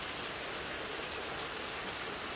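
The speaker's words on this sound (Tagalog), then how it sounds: "Ulan na naman." Steady, heavy rain pours down in a continuous hiss, close and even, with no other sounds.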